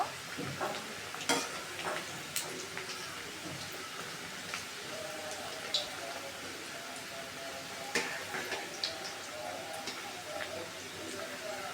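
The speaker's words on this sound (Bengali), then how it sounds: "বেশ লাল করে ভাজা হয়ে যাচ্ছে" Nimki, crisp flour snacks, deep-frying in hot oil, a steady close crackling sizzle with scattered sharp pops and ladle taps throughout, under faint background voices.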